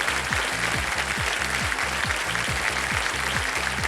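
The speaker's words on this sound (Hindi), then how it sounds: "ताली बजाइए" Studio audience on the KBC quiz show giving loud, sustained applause, a dense even clapping wash running throughout at close range, with steady music underneath and no speech.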